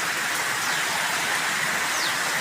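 Steady rain falls in Gujarat, India, an even, dense hiss of drops over a short stretch with no voices.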